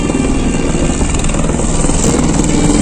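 Helicopter engine and rotor noise, a steady loud drone with a rhythmic chop, heard close by near a helipad on a Himalayan pilgrimage route near Phata, with a crowd of waiting passengers around.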